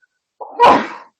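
A single sharp sneeze bursts out close and loud after a brief inhaled catch, then trails off quickly into silence.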